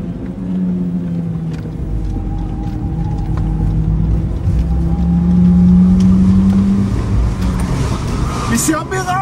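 A car running on homemade ethanol roars loudly and steadily with a deep, continuous engine drone that swells slightly midway, while people talk over it.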